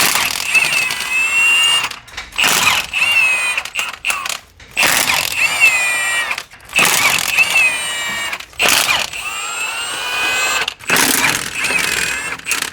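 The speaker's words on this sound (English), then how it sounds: "Recommend using an impact, so that way it shakes them loose." Milwaukee high-torque impact wrench with a 13mm socket rattling off exhaust manifold bolts on a 1st Gen 12 valve Cummins engine, several loud close hammering bursts separated by short pauses.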